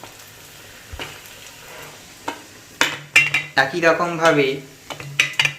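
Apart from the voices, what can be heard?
onion fritters (piyaji) frying in hot oil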